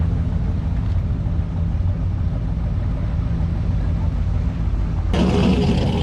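Rowdy, fierce-sounding AMC Hornet hot rod running on E85 rumbles steadily up close in a loud, continuous low drone, with a brighter, harsher surge of revving in the final second.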